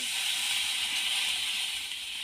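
Water poured into a frying mustard and cumin paste, a loud, steady hissing sizzle close by that eases slightly toward the end.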